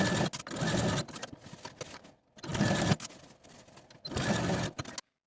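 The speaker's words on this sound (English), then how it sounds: "take these shoulder seams to the sewing machine and sew through all layers with a 1/2 inch seam allowance on both" A sewing machine stitches through all layers of shirt shoulder seams in three bursts of close, steady mechanical whirring separated by brief pauses.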